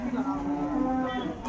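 A low, drawn-out moo from a large native bull at a cattle market, one sustained call lasting over a second, fairly close and clear with faint background noise.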